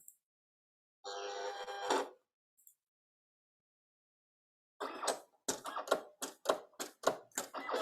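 A Silhouette cutting machine makes a test cut, its blade adjusting and then cutting a small square and triangle: a buzzing motor run, a pause, then a quick series of sharp, rhythmic mechanical clicks and whirs, close and clear.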